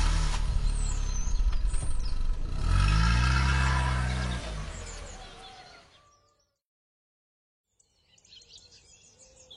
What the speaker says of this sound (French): Et la voiture démarre dans un nuage de poussière.